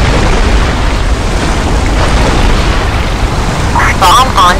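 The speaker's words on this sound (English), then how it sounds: "Bomb on target." A bomb explodes in Iron Wings, an aerial combat video game: a loud, continuous booming roar fills the whole stretch, and a brief voice-like burst comes near the end.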